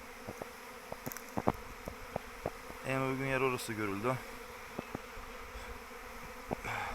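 A honeybee swarm hums continuously outdoors as scout bees search for a spot near their queen, with a bee zipping past close by in the middle and someone speaking briefly.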